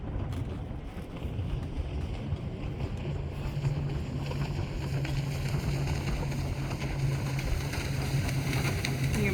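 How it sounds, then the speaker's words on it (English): Boat traffic passing on the water near a moored sailboat: a steady low engine drone that grows slightly stronger, mixed with wind rushing across the microphone. "You can probably hear some of the boat traffic going by."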